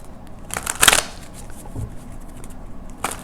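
Playing cards being shuffled close by, with a quick riffle burst, a few soft taps and a second short riffle near the end, in an otherwise quiet room.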